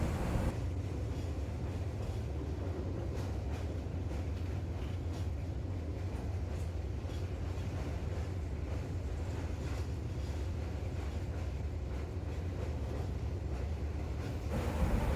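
The Gour Express train rumbles across the Ganga river bridge at night, a steady low, droning roar of wheels and carriages heard from inside, with wind noise throughout.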